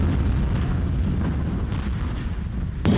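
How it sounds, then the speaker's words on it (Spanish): A continuous, loud, roaring rumble from a blaze after an explosion at a warehouse storing highly flammable products, with a sharp bang or pop near the end. "Todo se desató tras una explosión donde se almacenaban productos altamente inflamables."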